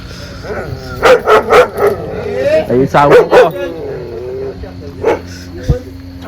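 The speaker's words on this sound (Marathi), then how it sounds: "हे आमचा कुत्रा आहे" A pet dog nearby lets out several loud barks in quick clusters with short yips between them, against a quiet background.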